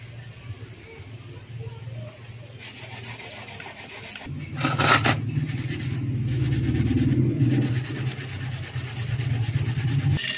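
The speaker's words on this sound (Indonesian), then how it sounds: "Jadi ini proses diasah dengan asahan yang agak kasar." A blade made from a utility cutter knife is sharpened on a coarse whetstone, a steady rasping rub that grows louder midway and carries on over a low background hum.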